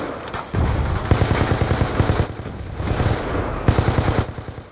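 Rapid automatic gunfire from a video game gun firing through a wall, in several loud sustained bursts with brief pauses between them.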